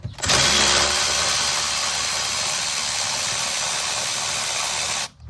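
A power tool spins off a 1/2-inch nut on the brake master cylinder mount of a 1995 Ford F150, whirring loudly and steadily for about five seconds before cutting off abruptly.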